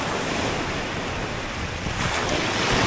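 Sea waves wash onto a beach at a resort with steady, broad surf noise and some wind buffeting the microphone throughout, no voices.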